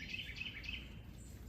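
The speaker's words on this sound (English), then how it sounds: "There were a lot of dark-eyed juncos on the ground where the sunflower seed is" Dark-eyed juncos call from a snowy front yard, several quick high chirps repeating over a steady background hiss.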